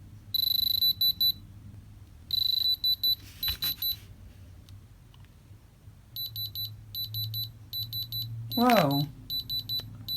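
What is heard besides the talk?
diamond tester beeping when needle touches stone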